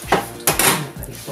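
Turkey breast cutlets are shifted onto plates in a kitchen, giving a few sharp, close clinks and clatters of dishes and cutlery in quick succession.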